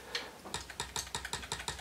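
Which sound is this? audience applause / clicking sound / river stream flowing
clicking sound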